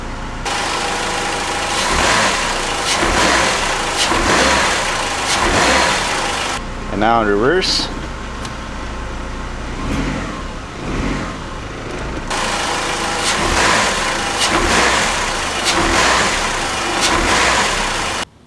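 A Chrysler PT Cruiser engine hums and revs in drive and reverse at moderate distance while someone talks over it, with a brief mechanical whine partway through; the motor mounts have excessive play.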